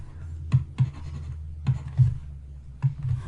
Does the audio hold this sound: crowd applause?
no